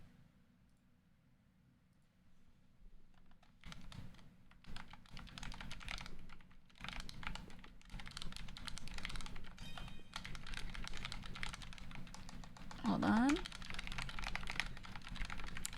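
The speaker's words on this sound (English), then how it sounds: "I was just typing it in the announcements chat in the Discord." Keys clatter in quick, uneven bursts from a computer keyboard as someone types a chat message during a casual livestream, close and steady, with a brief spoken remark over the tapping.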